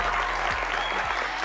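Audience applause at a televised leadership talk show welcoming new resident judges, steady dense clapping throughout the short stretch, loud and close with no voices over it.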